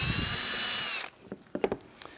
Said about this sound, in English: And we're going to drill right through the top.